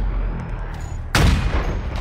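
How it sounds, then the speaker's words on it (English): A single sharp, loud sniper rifle shot in Halo Infinite multiplayer cracks out midway and is followed by a decaying boomy tail over steady game ambience. "I'm sniping the whole team here"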